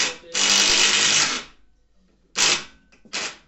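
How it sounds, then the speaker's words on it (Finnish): A power screwdriver drives screws into a sliding glass door frame: one long whirring burst of over a second, then two short bursts after a pause, close and clear with no voices. "Sitten ruuvataan nämä paikoille näin."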